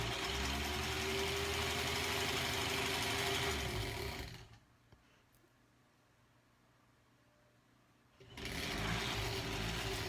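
Quilt blocks for a granny squares quilt are stitched on a sewing machine that hums loudly and steadily up close, stops for about four seconds of near silence, then starts up again.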